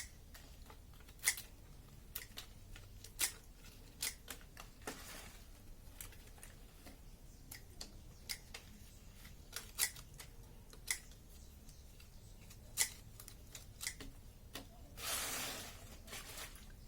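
Pruning shears snip through large guava leaves while cuttings are prepared for rooting, giving sharp, close, scattered clicks spaced unevenly, with a brief rustle of handled leaves near the end and no voices.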